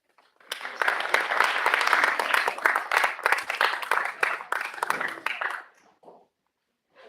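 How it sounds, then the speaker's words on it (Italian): A room of listeners at an Italian presentation breaks into dense, steady applause that holds for about five seconds, then thins out and stops, leaving a short quiet gap before a faint sound at the end. "E di nuovo un applauso per loro e prego."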